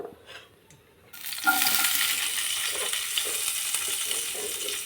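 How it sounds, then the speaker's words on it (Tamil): Onion drops into hot oil in a pan for chana masala, and a loud, steady sizzle bursts in after a brief quiet stretch and keeps hissing close up. "எண்ணெய் ஊற்றிருக்கிறேன். இதில் வெங்காயம் போடலாம்."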